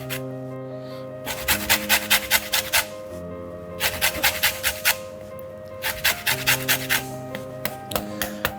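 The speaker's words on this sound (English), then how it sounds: "So I'm just going to zest in 2 lemons" Lemons are zested on a grater in close, rhythmic bursts of short scraping strokes. Three quick runs of five or six rasps each are separated by pauses, with a faint hum underneath.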